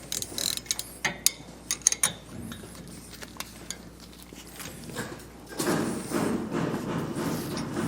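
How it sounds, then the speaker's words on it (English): Hand wrench ratcheting on trailer disc brake hardware, a series of sharp metallic clicks in quick bursts, close by, followed by a louder rustling, clattering stretch of handling noise, no talking. "So I like to just come back with the hand wrench and just really snug it down till I feel like it's tight enough"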